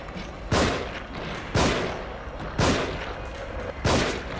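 Four heavy gunshots fire in The Evil Within, spaced about a second apart, each a sharp loud blast with a short rumbling tail over a low game ambience.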